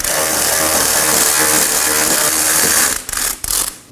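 A ratchet working a bolt loose on a 2018-2024 Chevrolet Equinox rear suspension, a steady dense mechanical clicking close up for about three seconds, then a few short broken bursts as it slows.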